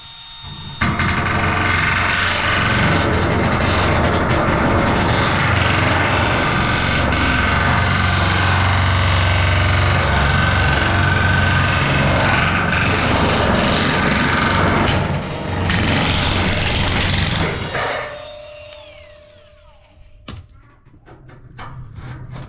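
A power tool slowly cuts through a metal roofing panel at its lowest speed, a steady loud grinding whine that holds for about fifteen seconds, then stops and tapers off into quieter handling noise.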